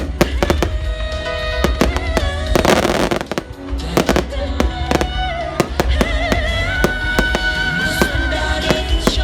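Fireworks burst overhead at a lively Vietnamese New Year celebration, a dense run of sharp cracks and booms under continuous festive music, with voices faintly heard in the crowd.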